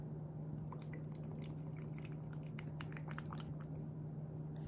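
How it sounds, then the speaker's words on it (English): Hair straightening activator liquid being poured into the solution at home, heard as a faint, steady trickle and scattered drips over a constant low hum, with no voices. "Pour the entire contents of activator in, check."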